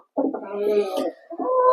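Domestic meat-and-egg hens clucking close by, two short drawn-out tonal calls separated by a brief pause, clear against a quiet background.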